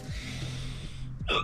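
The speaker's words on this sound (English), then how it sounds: "I got the hiccups." A man's hiccups break out sharply, a couple of abrupt jerky catches of breath close by while he works on a car's head gasket.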